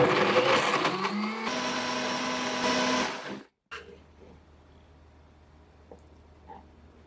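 Blender whirs loudly as it purées kale, tomato, coconut water and lemon juice, its motor pitch shifting as the blend smooths, then cuts off and leaves a quiet room with small clicks.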